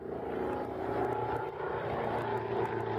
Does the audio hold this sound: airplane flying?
yes